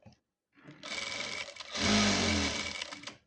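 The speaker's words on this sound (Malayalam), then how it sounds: "ഇതിൻ്റെ പുറത്ത് വീണ്ടും ഒരു ടോപ്പ് സ്റ്റിച്ച്" A sewing machine top-stitches churidhar lining fabric, starting after a short pause with a steady whirring run that speeds up and grows louder midway before slowing to a stop.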